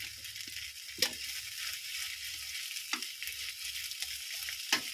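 Sausages frying in hot oil in a home kitchen, a steady broadband sizzle with a few louder crackles and pops spaced across the clip, heard close and alone.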